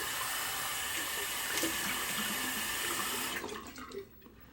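Tap water runs in a steady splash for a few seconds while being added during shave lathering, then cuts off abruptly, leaving quiet drips and faint handling sounds.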